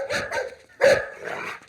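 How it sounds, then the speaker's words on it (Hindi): A dog barks in a comedy scene, three sharp barks in quick succession with short gaps between them, close and fairly loud with no talk over them. "अबे कुत्ते क्यों भौंक रहा है?"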